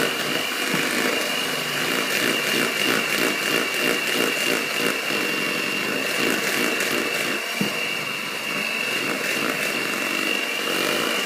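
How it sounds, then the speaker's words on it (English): An electric whisk beats pancake batter with a steady, loud motor whine that barely changes, a rapid rattle of beaters in the bowl running beneath it the whole way through. "I'm using an electric whisk for this"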